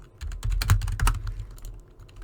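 Fast typing on a computer keyboard, heard up close as a dense, continuous rattle of rapid keystrokes with slight swells in loudness and no voices.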